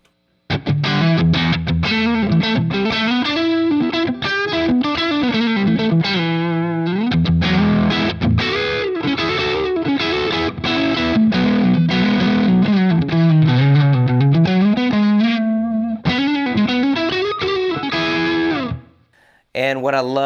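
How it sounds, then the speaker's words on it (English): An electric guitar with low-output single-coil pickups driven through a Volta 1987 Marshall-style distortion pedal, playing a loud, continuous run of crunchy riffs and chords close up for about nineteen seconds before cutting out. "And now this is how much the pedal is actually doing."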